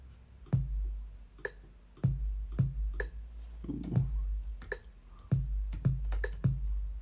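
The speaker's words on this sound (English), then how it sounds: "that's drum kit, obviously, and I was using the keyboard on my computer in order to play the sounds" Punchy electronic drum kit hits played from a computer keyboard, with deep kick thumps and snappy snare strikes in a loose rhythmic pattern, close and fairly loud with no voices.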